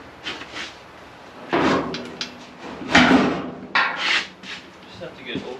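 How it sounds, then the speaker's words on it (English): A classic car's door is worked open and shut in a home garage, giving several solid thuds and clunks with short gaps between them, close by and fairly loud. "Door still opens and closes."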